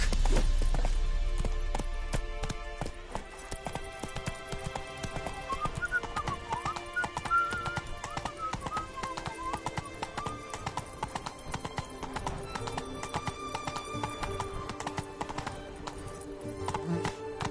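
Roach, Geralt's horse in The Witcher video game, gallops with rapid, rhythmic clip-clop hoofbeats throughout, with a brief whinny partway through and game music and effects layered underneath.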